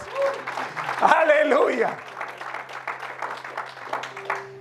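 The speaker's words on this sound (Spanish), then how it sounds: "denle un aplauso a Cristo" A church congregation applauds in a burst of scattered clapping while a voice calls out praise over it and other voices speak.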